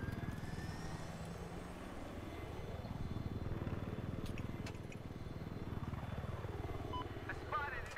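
Jet aircraft streaking past in the combat flight game Aces High: a steady, loud engine roar with sweeping rises and falls in pitch as planes pass close by, holding throughout.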